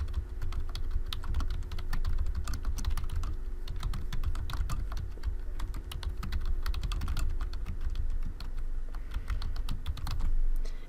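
Steady, rapid typing on a computer keyboard, close and clear, with dense clicking keystrokes running continuously throughout and no voices.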